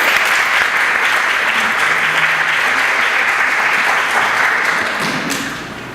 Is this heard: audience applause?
yes